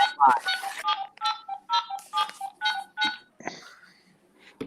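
Telephone keypad dialing, a quick run of about a dozen separate electronic touch-tone beeps in an irregular rhythm, close and clear, ending in a longer tone.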